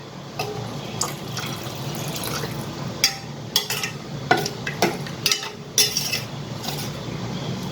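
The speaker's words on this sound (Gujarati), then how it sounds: "હવે આપણે આમાં પાણી નાખીશું." Water splashes into a pot of potato curry as a spoon clinks and scrapes against the metal several times, close and fairly quiet.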